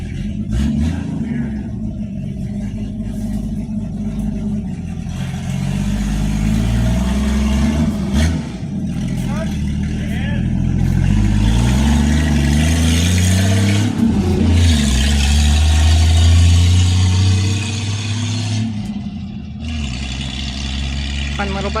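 A Jeep CJ7 engine rumbles loudly and revs up and down while driving, its pitch rising and falling over a continuous low drone with road and tire noise.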